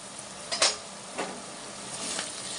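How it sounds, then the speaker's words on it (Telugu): Mullet fish frying in a clay pot, a faint, steady sizzle close by, broken by a few soft scraping stirs. "పచ్చివాసన పోయేంత వరకు వేయించుకుందాము"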